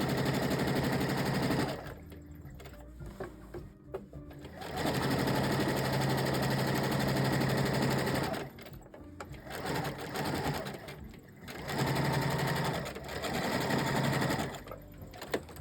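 A sewing machine stitches backpack fabric in long rapid bursts, a buzzing mechanical run that stops and restarts several times, close and loud with quiet gaps between runs.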